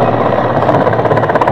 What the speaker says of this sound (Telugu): ఇంకో హెలికాప్టర్ ల్యాండ్ అవుతుంది.